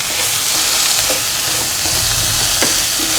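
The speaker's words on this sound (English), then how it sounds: "Sauteing it." Tomato sautéing in a hot pan gives a steady broadband sizzle throughout, with a few soft scrapes of stirring rising above it and no voices.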